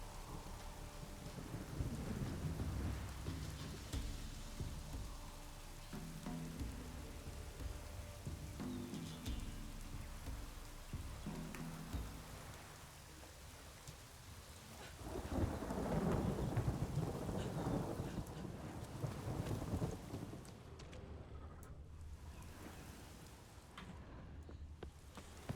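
Steady rain and rumbling thunder in The Witcher 3 near a village, a constant wash of falling rain with a swelling roll of thunder midway, heard at moderate volume with no talking.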